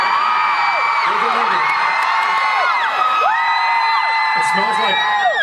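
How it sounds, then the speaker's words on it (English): A large convention crowd at Comic-Con screaming, whooping and cheering in sustained waves of high-pitched shrieks that rise and fall, loud and filling the hall throughout. "Let's hear some more screaming."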